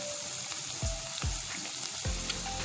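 Coconut oil and curry leaves sizzling over hot fish peera, a steady frying hiss with a few soft thuds, over background music.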